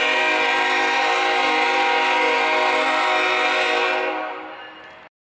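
A loud, steady train horn blares at a harbor in St. John's for about four seconds, then fades and cuts off abruptly.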